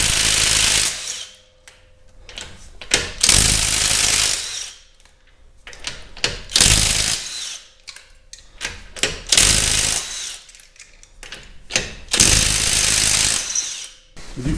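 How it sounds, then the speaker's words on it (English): A Kobalt 24V cordless impact driver works on the wheel lug nuts of a Subaru Forester, sounding in loud repeated bursts of hammering rattle with short quiet gaps between them. "I do feel like that 1/4 inch driver is perfect for these Subaru wheels and tires."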